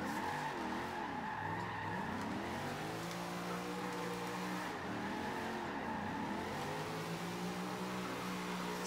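A V8-swapped Nissan Skyline R34 drifts in Forza Horizon 2, its engine revving loudly and continuously with rising and falling pitch as the tires squeal through long slides.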